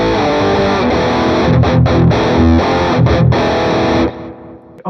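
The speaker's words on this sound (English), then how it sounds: "I'm not particularly in love with any of the high gain tones that I've been getting" A high-gain Mesa Boogie amp model in AmpliTube 5 drives loud, heavily distorted electric guitar in chugging chords with rhythmic stops, then fades into a quieter decaying tail.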